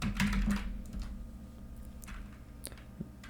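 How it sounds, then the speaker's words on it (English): Fingers typing a delete command on a computer keyboard, scattered close key taps with a heavier thump at the start and a few clicks toward the end, no speech. "To delete a file, we need to type delete and the name of the file"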